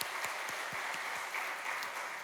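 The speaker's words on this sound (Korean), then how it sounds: "우리 하나님께 먼저 감사와 영광의 박수 올려드리겠습니다" A church congregation applauds at a Sunday service, with steady, dense clapping from many hands heard at moderate distance and no voices over it.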